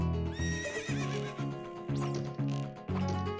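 A horse in the video game Zelda Ocarina of Time neighs in a long, loud whinny over game music with a regular pulse, its cry rising and wavering across the passage.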